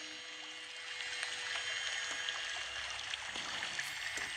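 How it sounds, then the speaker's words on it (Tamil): Kaviaruvi, the Monkey Falls waterfall beside the Aliyar dam on the Pollachi–Valparai road, gives a steady, even rush of falling water, moderately distant and continuous with no voices. "மங்கி ஃபால்ஸ் என்று அழைக்கப்பட்ட அருவி தற்போது கவியருவி என்று அழைக்கப்படுகிறது"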